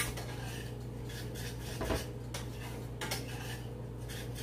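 A utensil scrapes and clinks softly against a pot while gravy is stirred on a home stove, in a low, continuous rhythm under a steady background hum.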